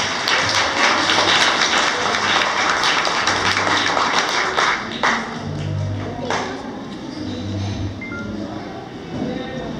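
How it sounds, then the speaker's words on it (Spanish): Applause for a princess at a ceremony: a dense crowd clapping steadily and loudly at close range, fading slightly midway, with rhythmic thumps and a voice talking underneath. "El aplauso nuevamente para nuestra princesa"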